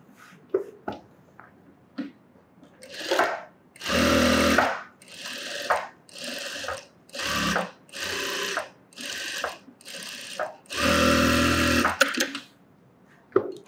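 A tailor's sewing machine stitches lining cloth for a sleeveless top in short, loud bursts of rapid needle clatter, separated by brief pauses and a few soft clicks, close by.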